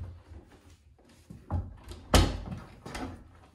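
A door is shut on a resistance band anchor during a home pull workout, with a few soft knocks and shuffles and then one sharp, close thud as it closes, followed by quieter handling sounds.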